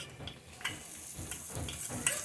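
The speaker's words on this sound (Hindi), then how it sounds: "जिंजर गार्लिक पेस्ट डाल देंगे" Ginger garlic paste sizzles in a hot kadhai of chicken kabab masala over a low flame while it is stirred, with soft repeated scraping strokes over a gentle frying hiss.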